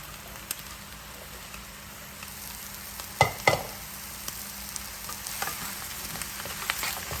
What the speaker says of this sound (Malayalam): ഇനിയും ഇതിലേക്ക് വഴുതനങ്ങ കൂടെ ഇട്ട് ഒന്ന് വഴറ്റാം